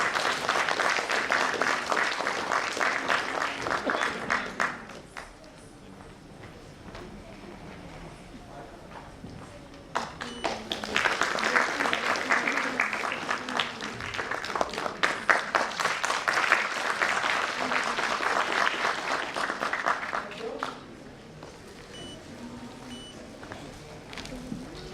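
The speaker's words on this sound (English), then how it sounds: "Please give them a huge round of applause." Sustained applause from an audience at an annual school function, loud dense clapping in long bursts with a quieter lull between them, crowd noise throughout.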